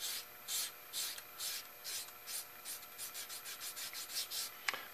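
Small 220-grit sanding stick made from a popsicle stick rubbing on a free-flight model aircraft part, about fifteen short rhythmic strokes, quick and steady, close and fairly quiet, no voices.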